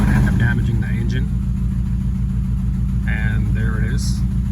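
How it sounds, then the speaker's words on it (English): Engine of a 2011 Nissan Altima with a misfire, running steadily with a rough low rumble throughout, close and loud, while a voice talks briefly over it at the start and again near the end. "You can feel it misfiring."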